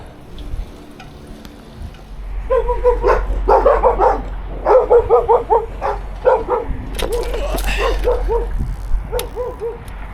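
A dog barks repeatedly in short bursts over a steady low rumble, like a vehicle engine, with the barks fairly close and loud.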